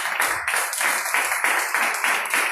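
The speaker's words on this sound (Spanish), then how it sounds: "Denle un aplauso fuerte al Señor, hermano." Congregation at a Spanish-language church service applauding for the Lord, a steady dense wash of many hands clapping close by, with rhythmic surges throughout.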